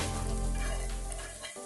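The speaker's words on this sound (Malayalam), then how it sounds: "നമ്മുടെ തേങ്ങാക്കൂട്ടിലേക്ക് നമ്മൾ ചിക്കൻ ഇട്ട് കഴിഞ്ഞിരിക്കുകയാണ്. അപ്പൊ നമ്മൾ നന്നായിട്ടൊന്ന് ഇളക്കി കൊടുക്കണം." Chicken pieces stirred into a frying coconut masala for a Kerala-style chicken fry, giving a loud, steady sizzle with spoon scrapes that thin out near the end.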